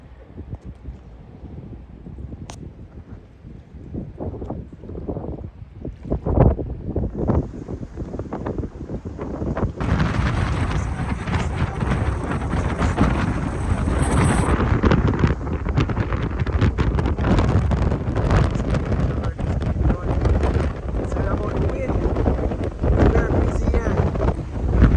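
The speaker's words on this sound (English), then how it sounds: "Very windy." Strong wind buffets the microphone at Norman Manley International Airport in Jamaica during runway extension works, a constant loud roaring rush that grows heavier after the opening seconds and persists throughout.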